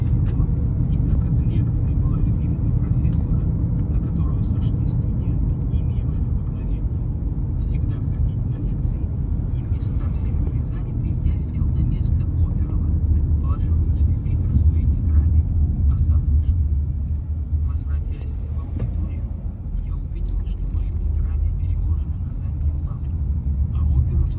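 Car driving on a road between Myshkin and Moscow, a loud steady rumble of engine and tyres filling the interior with a constant low drone, muffled talk inside the car.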